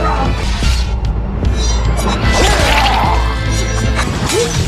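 Explosion in an action film scene aboard a high-speed train, a dense, loud crashing rumble with smashing debris and whooshes sustained throughout, no speech over it.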